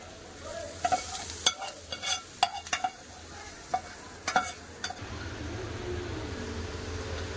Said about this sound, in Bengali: পেঁয়াজগুলো একটু লাল করে ভেজে নেবো